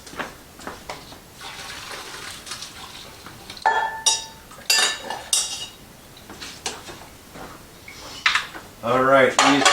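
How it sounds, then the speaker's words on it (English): Cooked potatoes are drained and tipped back into a pan, giving scattered clatters of pot, lid and utensil against metal with a brief rush of pouring water, close and fairly loud, while someone talks throughout. "Let's get them drained real fast and get them transferred back into the pan."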